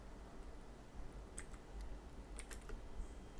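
Fingers tap a computer keyboard while entering a Linux command on an Ubuntu server, a quiet scatter of close clicks with small bursts of quicker keystrokes over a low hum.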